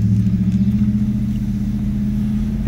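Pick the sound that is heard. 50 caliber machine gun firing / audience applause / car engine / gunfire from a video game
car engine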